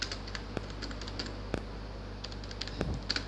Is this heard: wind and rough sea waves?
no